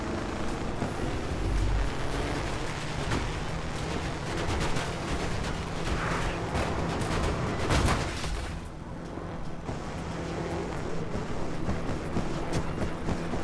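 A drifting supercar in Trailmakers, a low-profile wedge-shaped build with four-wheel steering, roars with a loud, steady engine and tire noise that barely lets up, with no voices over it.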